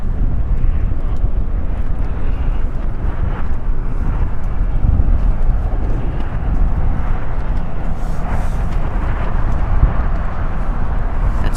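A United Airlines Boeing Dreamliner airliner passes at an airport, a loud steady engine roar with heavy wind buffeting on the microphone, no talk.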